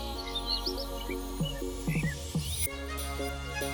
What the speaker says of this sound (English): So it's nice and early. Birds are chirping.